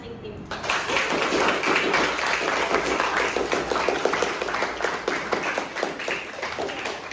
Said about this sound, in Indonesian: Berikan tepukan yang meriah terlebih dahulu untuk masing-masing tim